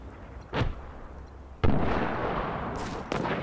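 Artillery fire in the Combat Mission: Final Blitzkrieg war game, heard as a few booming blasts, one much louder and closer than the rest, each trailing off into a rumbling wash.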